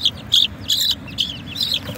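Young chicks peeping up close, a series of loud, high, short chirps in small bursts with brief gaps between them, no voices present.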